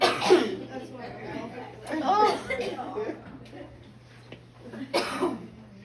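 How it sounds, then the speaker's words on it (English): Several people cough in short bursts in a hair salon during a textured razor cut, with chatter and light talk mixed among the coughs. "Y'all are all coughing."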